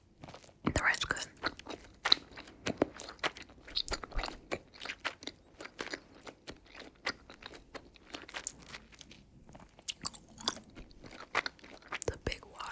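A big wad of gum is chewed close to the mic, with quiet, wet crunching and smacking clicks in an irregular rhythm and soft whispering now and then.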